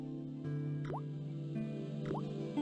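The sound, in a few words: rusty faucet dripping water in Broken Sword video game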